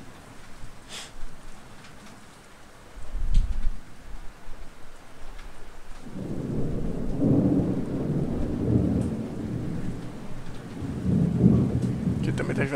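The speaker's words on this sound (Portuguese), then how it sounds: "Tá dando uns trovão." Thunder rumbles low and heavy, with one sharp crack early on, and steady rain then hisses and patters on surfaces as the storm grows louder, with no voices.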